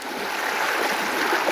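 The fast current of the Mechi river rushes in a continuous loud, hissing wash of water that neither swells nor fades, with no voices over it.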